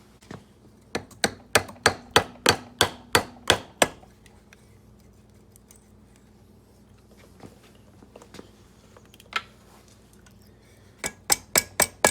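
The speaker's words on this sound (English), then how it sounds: "you might need a little rubber mallet to give it a tap" A rubber mallet taps a cylinder off a PW80 engine in a run of about nine sharp, evenly paced knocks, then a quiet pause with a few scattered taps, then another quick series of knocks, loud and close.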